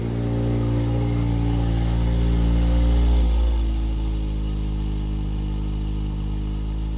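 A 2025 Toyota GR86 four-cylinder boxer engine with the optional performance exhaust idles loudly and close, a deep steady rumble that swells slightly then settles lower, with no talking.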